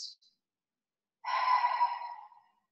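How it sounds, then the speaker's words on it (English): A slow, steady exhalation during a guided breathing and meditation class, one soft breath out lasting just over a second, close and clear with no talking. "Breathing out whatever does not serve you today, whatever is not of God. Let's breathe that out."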